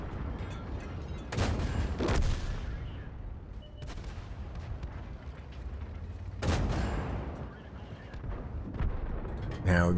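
A Thunderbolt tank fires its cannon in World of Tanks on Himmelsdorf, with two heavy booming blasts that ring out over a constant engine rumble, alongside softer impacts and a louder hit at the end.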